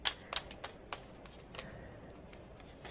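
Tarot cards being shuffled and drawn by hand, a quick series of crisp riffling flicks and slaps followed by softer card rustling, close up and with no one speaking.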